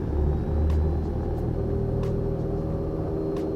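A Cessna light aircraft engine at full takeoff power on a soft or short field runway, a steady loud low rumble and drone holding constant throughout with no talk.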